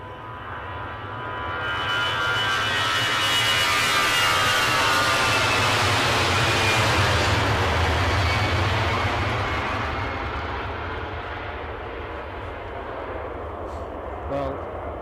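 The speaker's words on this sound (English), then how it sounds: "Here comes the Airbus A320." An Airbus A320 jet airliner passes over the runway at a wintry Edinburgh airport, a loud broadband engine roar building over a few seconds, holding, then fading away, with a somewhat tinny engine tone and people talking underneath.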